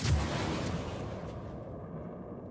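Missiles launching and striking a target in the Star Citizen space combat game, a loud low booming rumble that hits at once and rolls on steadily without fading much, with no voices over it.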